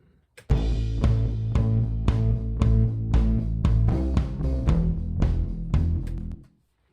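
A band groove with a deep bass line, guitar, octave-up part and synth bass over a steady kick drum, all washed in reverb, stopping abruptly at the end.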